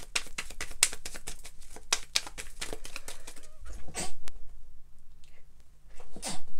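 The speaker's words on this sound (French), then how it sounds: "Oh, j'ai envie d'éternuer." A sharp, breathy sneeze bursts out after a stretch of quick tapping and rustling, and a second sneeze-like burst follows a couple of seconds later.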